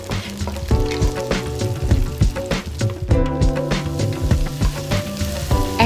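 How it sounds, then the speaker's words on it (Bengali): Chopped onions and slit green chilies fry in a pan for a Bengali black urad dal, giving a steady, close sizzle with crackling pops and no talk. "2টো বড় সাইজের পেঁয়াজ কুচি এবং মাঝখানে চিরে নেয়া 4-5টি কাঁচামরিচ দিয়ে কিছুক্ষণ ভেজে নেব।"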